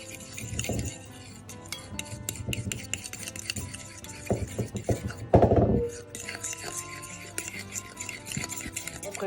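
Curry powder, paprika and oregano being mixed in a bowl for a maple curry pork dish, with steady scraping and clinking of a utensil against the bowl, some louder knocks midway, close and continuous with no talking.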